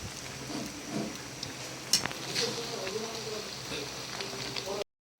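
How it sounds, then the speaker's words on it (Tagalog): Pakbet Tagalog vegetables being stirred in a pan, with a steady close sizzle of frying and occasional scrapes and clinks of the utensil against the pan throughout, then cutting off abruptly. "medyo haluin natin para maluto yung nasa ibabaw"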